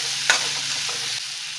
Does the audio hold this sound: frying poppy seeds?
yes